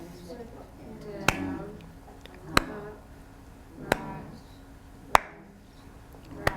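Sharp hand claps ring out at a slow, steady pace, about five across the stretch, set against a quieter room murmur during a session on visual issues in Fragile X.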